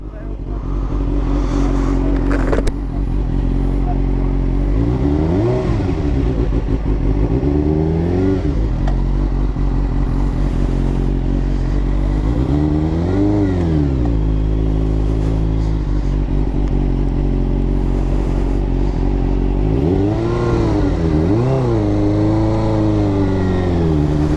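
A Suzuki GSX-R 600 sportbike is ridden and revved hard, its engine note repeatedly climbing and dropping through the gears in loud, close sweeps, with a rider talking over it at times.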